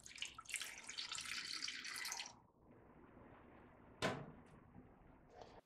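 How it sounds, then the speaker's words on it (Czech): A little under two decilitres of water pours into a pot of diced pork belly resting on a grill grate, giving a close, hissing splash for about two seconds, followed by a single sharp knock. "Naleju k němu necelé 2 deci vody."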